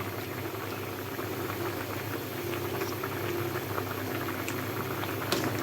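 A fish curry with onion and tomato bubbling steadily in a pan as the sauce reduces, a constant close simmering hiss with soft popping bursts and no talking.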